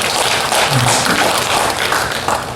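A church congregation at a Sunday worship service applauds in thanks, a loud, dense wash of clapping from many people filling the sanctuary, sustained throughout and fading slightly at the end.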